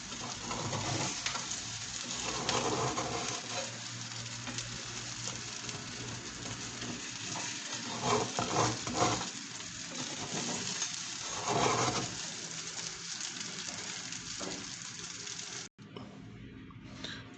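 Omelet frying in a pan over medium heat, a steady close hiss and sizzle that continues with small crackles and shifts, with no talk over it.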